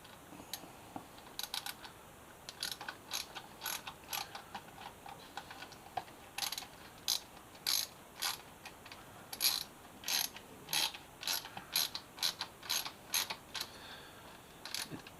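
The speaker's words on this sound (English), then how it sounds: "So I have a little socket here. I'm just going to" A small socket ratchet tightening bolts during a Suzuki GSX-S 1000F motorcycle rebuild clicks in quick bursts of rapid pawl ticks, close and fairly crisp, separated by short pauses against a quiet room.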